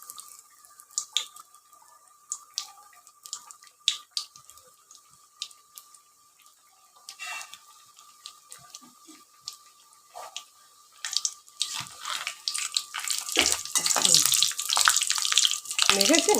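Banana flower chops, Nadia Rajbari style, sizzling in hot oil, starting as faint scattered crackles and spits that grow into a dense, louder sizzle near the end.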